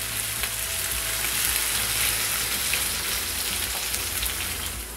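Soaked chana dal sizzles and fries with spices in a hot pan, a steady close crackling hiss throughout with faint stirring.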